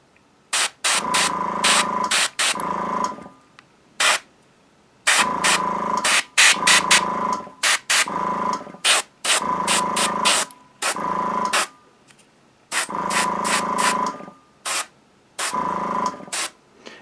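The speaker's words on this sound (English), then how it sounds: "I spray from this angle coming in so that it sprays away from the crack." An airbrush sprays paint onto a miniature in short repeated bursts, a close hissing spray starting and stopping in rapid pulses with brief pauses between groups.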